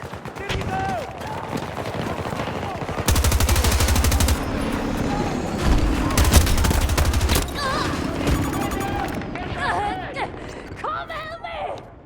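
Gunfire in the video game Battlefield 2042: dense bursts of automatic fire and heavy booming volleys roll on continuously, loud and close, under excited shouted talk from players.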